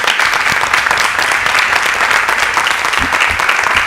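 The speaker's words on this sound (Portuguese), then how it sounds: "Uma salva de palmas para vocês." Audience at a public hearing breaks into steady, dense applause, many hands clapping at once and sustained loudly for the whole stretch with no pause.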